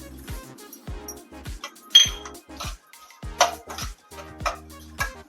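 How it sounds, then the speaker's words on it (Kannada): Mustard seeds dropped into a pan for homemade rasam powder give a run of small, close metallic clinks and pattering ticks over a low, steady background, with a few sharper peaks among them. "ಈಗ ಸಾಸಿವೆ ಹಾಕೊಳ್ತಿದ್ದೀನಿ"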